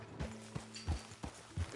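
Horse hooves clip-clop in Red Dead Redemption 2, giving about five distinct, evenly spaced thuds at a walking pace. They are close and moderately quiet.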